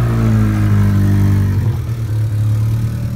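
An Acura Integra engine breathing through a loud 2.5 inch pipe with a welded-on muffler and turn-down produces a deep, steady droning rumble close to the microphone, with a slight dip in its note midway.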